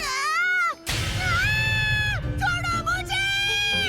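A cartoon character voice imitates a cat's meow in an animated horror series, with a drawn-out, wavering cry followed by several shorter yowling meows, loud and close.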